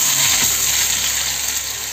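Onions sizzle steadily in hot oil, a loud constant hiss with a faint clatter near the start and no voices.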